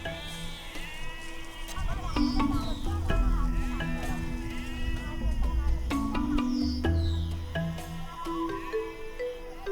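Goats herded by Turkana herders bleat repeatedly, several overlapping calls rising and falling from nearby animals over a constant outdoor background.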